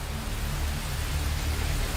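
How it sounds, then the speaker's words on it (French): Heavy rain falls at night during an ice storm in Canada, a steady dense hiss of downpour with a low rumble beneath and no voices. "À la nuit tombée, la pluie redouble."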